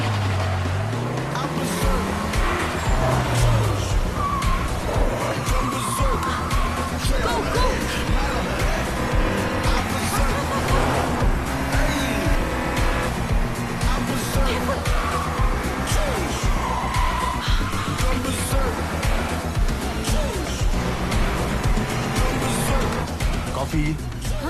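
Cars race and overtake one another in a film scene, with engines roaring and a rising sweep near the start and brief tire squeals. Loud, steady motor noise runs throughout, mixed with voices and other soundtrack.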